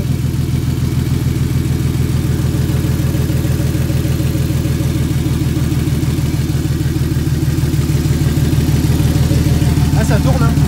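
A turbocharged BMW E36 idles on its first start without engine management, a loud, steady, even pulsing rumble that holds close and constant throughout with no revving.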